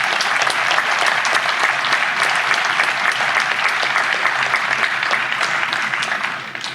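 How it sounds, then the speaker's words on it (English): Sustained applause from a large audience at a law school spring commencement, steady and dense throughout, with no voices over it, easing slightly at the end. "Round of applause for Justice Cameron."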